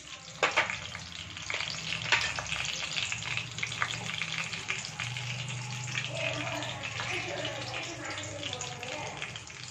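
Mustard seeds, cumin, fenugreek, dried red chilies and urad dal sizzle steadily in hot oil for a sambar tempering, with crackling pops and sharp spits early on over a continuous frying hiss.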